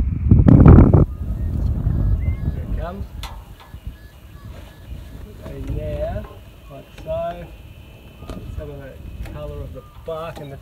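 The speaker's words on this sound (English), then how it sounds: "There's a big gust of wind coming through." A big gust of wind rushes through an outdoor Australian summer landscape, a loud buffeting roar at the start that settles into a steady breezy rumble with scattered faint bird chirps.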